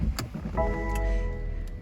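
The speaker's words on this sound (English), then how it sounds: "we shall go ahead and start the car up" A BMW F33 335d M Sport starts up: a short whirring crank followed by the diesel engine catching into a steady idle with a harmonic hum, preceded by a couple of light clicks, heard close inside the car.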